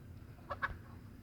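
Two quick, faint clucks from a rooster sound in close succession against a quiet background hum.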